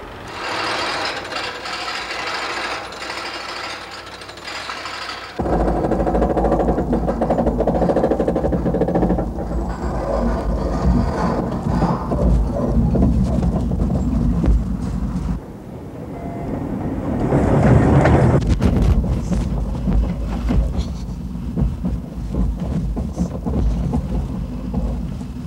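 A roller coaster roars through a roll and upside-down section, a loud sustained rumble of wheels on track that surges and swells, with no talk over it.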